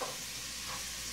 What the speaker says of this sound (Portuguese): Esperar fritar um pouquinho a linguiça. Esperar fritar bem